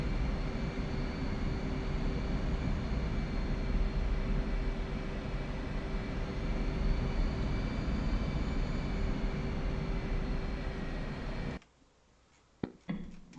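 A military jet sits on the runway with a steady, loud engine roar and a constant high whine that continues unchanged until it cuts off abruptly, followed by near silence and a couple of faint clicks.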